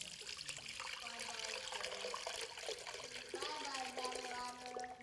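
Water poured into a container of black water, a steady splashing, trickling pour running throughout, close and fairly loud, with a voice talking over it.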